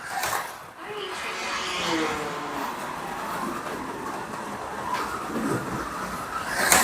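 BRM Datsun 240Z slot car lapping a track, a continuous whining electric motor buzz rising and falling as it circles, with an excited voice talking over it.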